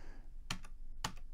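Two sharp clicks of a computer keyboard's tab key, about half a second apart, close up over a faint steady background hum.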